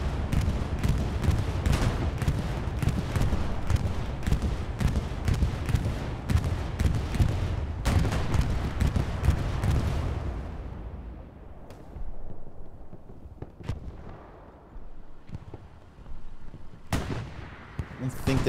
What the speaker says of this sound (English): Got bombing run coming to our front.